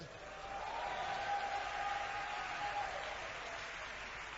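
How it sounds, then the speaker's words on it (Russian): Church congregation applauding at a sermon, a steady wash of many hands clapping at moderate level throughout, slightly distant and reverberant, without distinct individual claps. "Дайте Богу аплодисменты."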